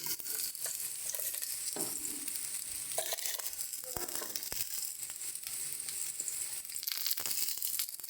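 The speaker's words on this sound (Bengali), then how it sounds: "এবার এর মধ্যে আমরা চালটাকে দিয়ে দিচ্ছি।" Washed rice is poured into a pot of simmering lentils for khichuri, with soft crackling, rustling and light scraping stirs under a faint sizzle, close and fairly quiet.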